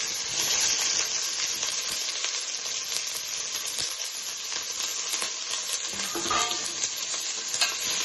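Onions and green chilies fry in a little oil in a mutton mango curry pan, a bright, hissing sizzle that crackles continuously with occasional stirring scrapes and taps.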